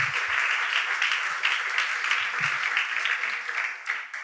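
A church congregation applauds in steady, sustained clapping that fills a large room for the whole stretch, fairly loud and without a break.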